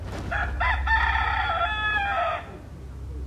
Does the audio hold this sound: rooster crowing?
yes